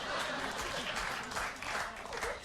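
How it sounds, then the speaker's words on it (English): Studio audience on a late-night talk show applauding steadily throughout, a dense, continuous wash of clapping with a few chuckles mixed in. "You're clapping for that?"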